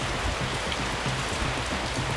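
Heavy rain pours steadily at a high-altitude gold mine in Ecuador, a dense, continuous hiss of drops close by with no voices.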